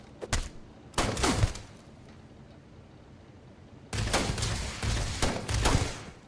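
Bursts of gunfire strike the player character during a fight in the video game Starfield, coming in two clusters of loud, sharp volleys separated by a quiet stretch of a few seconds.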